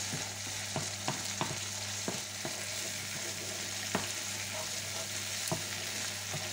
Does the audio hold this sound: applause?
no